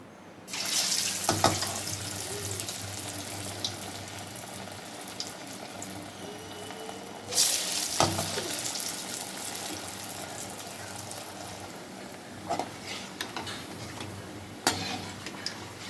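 Banana flower vadas frying in hot oil give a steady, close sizzling hiss, broken by a few sharper crackles and pops, with no voices.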